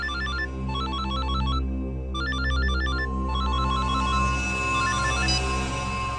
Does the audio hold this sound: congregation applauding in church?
no